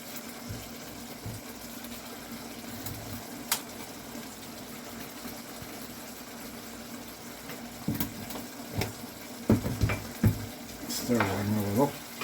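Tomato sauce with garlic simmers quietly in a pan with a faint continuous bubbling hiss, then spoon scrapes and clatters grow louder toward the end as the sauce is stirred.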